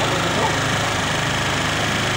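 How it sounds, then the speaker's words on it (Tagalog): Motorstar MSX 150 motorcycle engine running steadily after a faulty CDI and starter switch were replaced, a loud, close, continuous idle with even rapid firing and no talk over it. "Ayan na po at kumandar na po yung motor natin na nasira dahil sira yung CDI."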